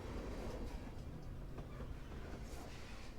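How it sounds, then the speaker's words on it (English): A train rolls through a campfire party spot in Life is Strange, a steady low rumble with faint rattling that holds constant for the whole stretch, with no voices. "Got a train going through"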